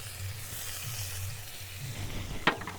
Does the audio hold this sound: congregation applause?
no